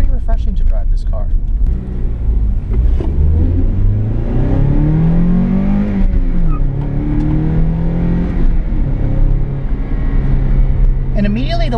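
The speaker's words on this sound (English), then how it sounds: "it's pretty refreshing to drive this car" A 2004 Toyota Celica GT on a test drive gives off a steady, loud engine drone that climbs and falls in pitch as it accelerates and shifts, with a person talking over the cabin noise.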